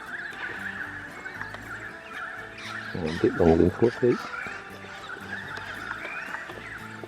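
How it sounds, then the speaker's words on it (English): A wild horse standing at the front of a tent gives a loud, close neigh in the middle of the clip, while a person talks nearby. "For a wild horse, this is the most tame horse I've ever seen."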